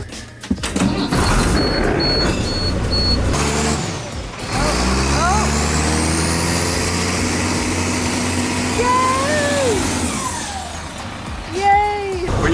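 A bus revs hard as it climbs out of a ditch, its engine roaring and straining, with hissing air brakes and rising mechanical whine, while people talk and shout over it.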